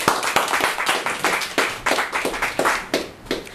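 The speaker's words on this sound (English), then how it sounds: "Please give her a welcome and a round of applause." Scattered hand clapping from a small audience welcoming a poet onstage at a gallery poetry reading, irregular claps in uneven bursts, fairly close.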